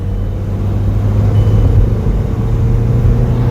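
A modified Volkswagen Polo GT TSI accelerates hard, its engine a loud, steady low rumble that holds without a break for a few seconds, close up and with no voices.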